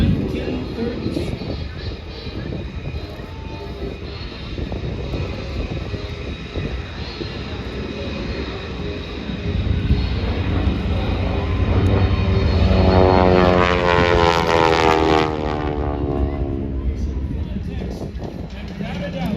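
A propeller training aircraft flies a loop at an airshow in West Virginia, its engine droning steadily and swelling louder as it passes close overhead, with rising and falling pitch and a voice talking over it throughout.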